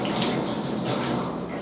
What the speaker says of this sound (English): So rinse your fingernails under some water.